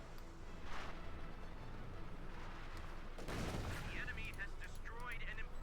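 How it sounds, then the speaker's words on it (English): Rumbling, crackling blasts of a white phosphorus artillery barrage in Company of Heroes 2, a dense wash of explosions and battle noise rising in the second half, with gunfire underneath. "We got another White Phosphorus barrage off."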